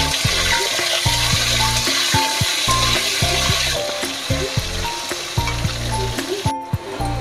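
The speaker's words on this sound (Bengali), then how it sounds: "আলুগুলো প্রায় লাল লাল করে ভাজা হয়ে গেছে" Potatoes with capsicum and a little salt fry in a pan until browned, producing a constant close sizzle with scattered crackles and a few stirring knocks, no voices over it.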